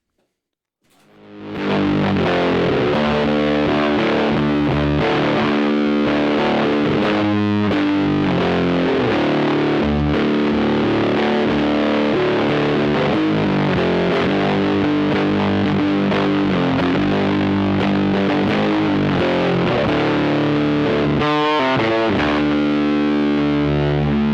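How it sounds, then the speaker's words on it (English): Electric guitar played through a thick, heavily saturated Big Muff-type fuzz pedal, loud sustained chords and riffs with a dense, woolly distortion and no talking. "It's kind of a big muff type thing, and it sounds like this."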